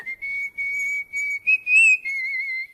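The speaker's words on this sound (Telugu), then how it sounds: "ఏ విజిల్ అంత బాగుందా?" A person whistles a sustained, steady high tone in several phrases with short breaks, one rising warble near the end, close and clear with no talking.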